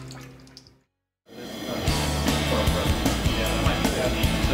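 Wort running off into the kettle during a home brew day for a Belgian Special ale, a steady loud rush of flowing liquid that starts after a brief silence and continues without talk.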